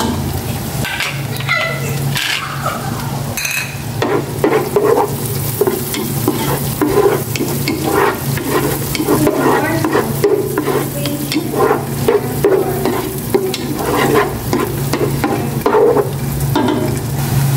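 Onion and garlic sautéing in butter in a pan, with steady sizzling and frequent scraping stirs throughout, close and fairly loud.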